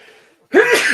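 A single sharp, close sneeze bursts out after a brief silence, loud and abrupt, followed by a short breathy tail.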